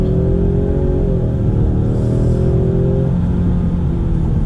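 Ford Mustang EcoBoost four-cylinder pulling hard in sport mode, a loud, dense engine drone from inside the car with pitch climbing slowly and one brief upshift, without talk.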